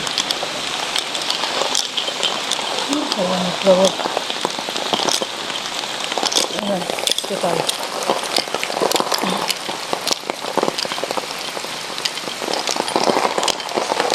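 Steady rain patters densely on surfaces nearby, with a few brief spoken words passing under the downpour.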